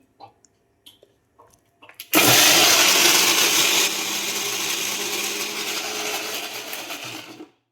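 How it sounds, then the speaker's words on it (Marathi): A few small clicks and taps, then a mixer grinder roars to life grinding roasted onion, running loudly and steadily for several seconds before cutting off. "आता हे सगळं मी दळून घेते."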